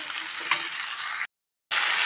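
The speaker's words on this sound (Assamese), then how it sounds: "আৰু মই লাই শাকখিনি মিক্স কৰি ভাজি থাকিম।" Pork and lai (mustard) greens fry and get stirred in a pan, a close, steady sizzle with scraping stirs, broken by a short silent gap before the frying resumes.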